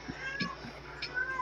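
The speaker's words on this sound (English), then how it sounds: "Oh, I hear the cat. He's hungry." A hungry cat meows a few times, brief and fairly faint, over a steady background hum in an indoor room.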